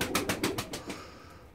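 Pigeons coo inside a loft coop, a handful of rhythmic, soft throaty pulses close by that fade out, with no talking.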